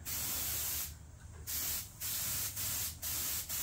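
A spray gun at very low working pressure paints a John Deere mower deck, giving a steady close hiss broken by several brief pauses between passes, with no talk.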